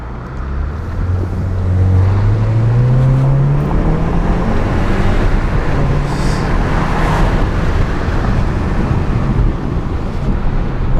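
A 2023 Volkswagen Jetta GLI accelerates hard on the Autobahn, its engine note rising steadily over several seconds beneath loud road and wind roar heard from inside the cabin, with no talking.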